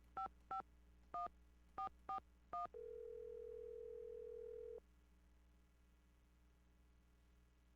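Car phone in the Nancy Drew game Secret of the Scarlet Hand: six crisp dialing tones in a quick uneven sequence, then a steady two-second tone that cuts off into quiet line hiss.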